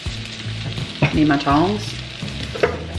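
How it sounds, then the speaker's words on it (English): Beef sizzles and fries in a pan while being turned and tossed, with steady close sizzling and a few clanks from utensils. A person speaks briefly over it. "Cooking up our beef, and I'm just going to turn it and toss it, get that cooked through."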